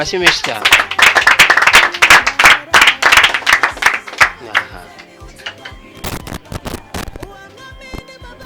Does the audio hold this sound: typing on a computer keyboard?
no